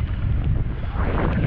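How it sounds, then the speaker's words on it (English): Steady wind buffeting a microphone outdoors near a flag, a continuous low rumbling roar with no talk. "there's some wind you can see on that flag"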